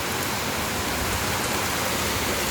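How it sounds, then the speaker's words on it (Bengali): Heavy rain pours in a dense, steady roar with no break, loud and close, and no voices. "পুরো বৃষ্টি দিয়ে কোথায় চলে আসতেছে বাসার ভিতরে পর্যন্ত চলে আসতেছে এত বৃষ্টি"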